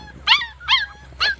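Standard Schnauzer puppy giving three short, high, yelping barks with whiny edges, evenly spaced and close by over a low background hum.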